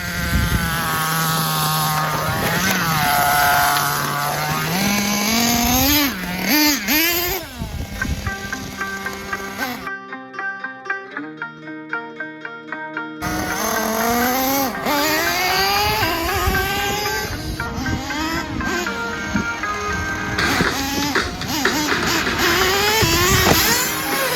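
A Team Losi LST2 RC truck on Proline Trencher tires revs hard toward a ramp, its high whining motor rising and falling in loud sweeps, with a brief near-silent gap partway through before the screaming revs resume.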